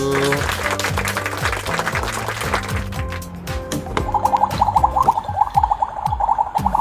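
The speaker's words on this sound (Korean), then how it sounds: "박수." Clapping for a small child playing with a toy kitchen at home, a few bursts of hand claps over the sound of a toy playing an electronic tune.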